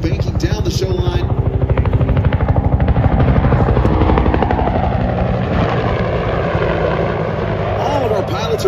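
A warbird at an airshow banks hard as it flies down the show line, its loud pulsing propeller and engine drone close by, then thinning out as the aircraft moves off.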